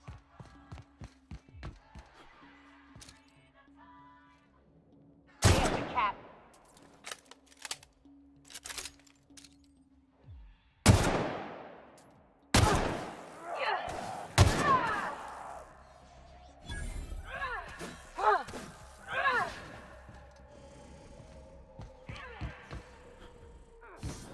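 Gunfire and impacts from a fight in the video game The Outer Worlds, sudden loud bursts and thuds scattered irregularly among quieter in-game noises and rumbles.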